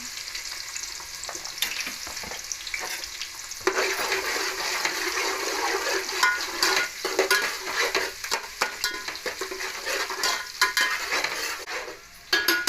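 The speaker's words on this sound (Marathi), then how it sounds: "तेल तापलेलं आहे लसूण टाकून झाला आहे बघा कांदा टाकलेला आहे" Onion and garlic sizzle and crackle steadily in hot oil, a close, continuous frying hiss with occasional stirring scrapes, growing louder partway through and carrying on with no talk.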